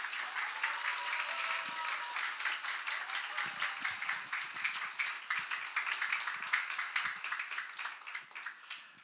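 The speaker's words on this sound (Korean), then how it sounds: "여러분 우리 이루다 목사님 나오실 때 우리 큰 박수로 환영하시겠습니다." Church congregation applauding to welcome a pastor at a Sunday service, rapid dense clapping with a pulsing rhythm that keeps going throughout, fairly close and without speech on top.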